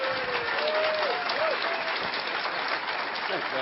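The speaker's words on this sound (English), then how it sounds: "please help me give a warm hand of welcome to our next speaker" Audience applause welcomes a speaker onto the stage at a 2005 lecture event, a dense, steady wash of clapping from a large crowd lasting throughout, with some voices mixed in.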